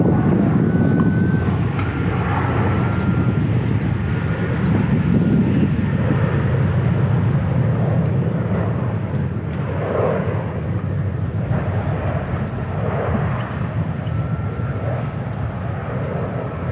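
Radiolink D460 RC beginner airplane with a 7-inch propeller flying nearly in place against the wind, its electric motor giving a steady, continuous buzzing drone throughout with faint background noise.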